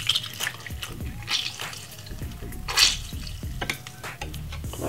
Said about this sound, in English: Get to your strainer, and we're gonna squeeze half of a lemon juice